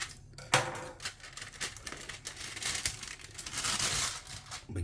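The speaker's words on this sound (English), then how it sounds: "we're going to go in with a knife and just cut around" A knife cutting around the plastic film lid of a ready-meal breakfast food tray, giving close crinkling, tearing and scratchy scraping noises in a busy continuous stretch.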